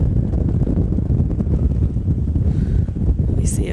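Strong wind buffets the microphone at the water's edge, a steady loud low roar across the whole stretch with no voices.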